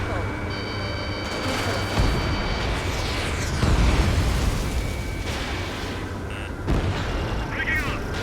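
Heavy bombing explosions in the combat flight game Ace Combat 7, several deep booming blasts landing a few seconds apart amid steady jet and battle noise, with radio chatter voices over the top.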